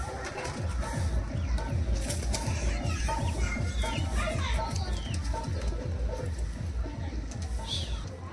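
Pigeons in a pigeon loft coo in a steady rhythm, with occasional wing flaps and other birds mixed in, while a person talks over the birds the whole time.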